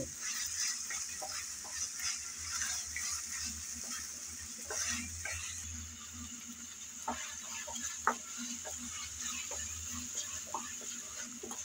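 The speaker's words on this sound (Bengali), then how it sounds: "3-4 মিনিট নেড়ে চেড়ে চিংড়ি ভেজে নিয়েছি" Prawns fry in hot oil for a cauliflower curry, a soft, faint sizzle under scattered light clicks and scrapes of stirring, with no talking.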